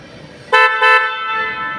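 A newly installed horn on a Toyota Hiace van sounds two quick close blasts, loud and bright, the second one running on and fading out.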